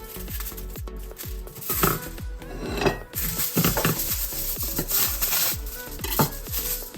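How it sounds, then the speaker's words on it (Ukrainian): Aluminium foil being crinkled and folded around a homemade chicken burger, a steady run of close crackling and rustling with sharp crisp peaks throughout. "відрізуємо і завертаємо наш бургер у фольгу"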